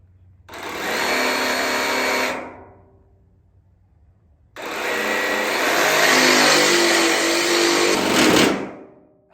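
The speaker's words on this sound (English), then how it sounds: "Let's try this. Jigsaw. Let's try it." A jigsaw cuts during a roof rack install on a 2021 Ford Transit van, in two loud bursts: a short cut of about two seconds, a pause, then a longer whining cut ending in a rising strain before it stops.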